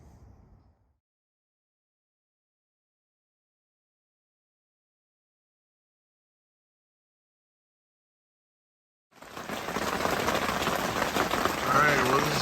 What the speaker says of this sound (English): we've had some steady rain coming down.